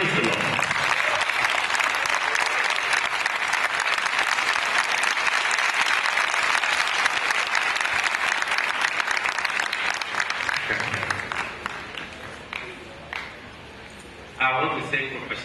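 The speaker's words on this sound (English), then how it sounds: "clap for this man" A large audience at a university event applauds loudly and steadily for about ten seconds. The clapping then thins into scattered claps and fades, and a brief renewed burst comes near the end.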